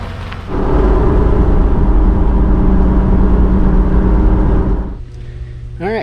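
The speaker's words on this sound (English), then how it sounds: "All right, we took it for a test drive." A car on a test drive after repair work, its engine droning loud and steady with a heavy low rumble, then dropping back to a quieter idle near the end.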